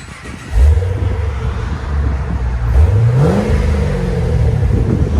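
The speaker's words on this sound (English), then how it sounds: "That sounds good with the S-Type." A Pontiac G8 GT with a 6.0L V8 and Borla S-Type exhaust revs twice from idle, each blip rising sharply then settling back into a deep, close, rumbling idle.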